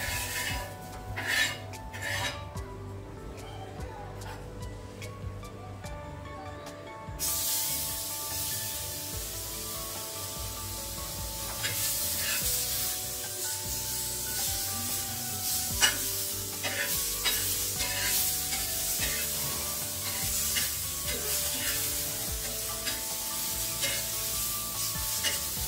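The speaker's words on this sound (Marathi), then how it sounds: "टोमॅटो पण आपल्याला थोडासा हलकासा असा परतून घ्यायचा आहे." Tomato stirred and sautéed with onion in a pan: a quiet start with spatula scrapes and clinks, then a sustained loud sizzle with repeated stirring scrapes against the pan.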